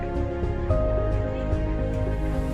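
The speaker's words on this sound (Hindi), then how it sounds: "आप सुन सकते हो, बिल्कुल FM साउंड आ रहा है।" FM radio broadcast played through a repaired Reksha MP3 amplifier after an LA4440 IC swap, steady dense tones and music-like content running continuously at moderate level with no talk.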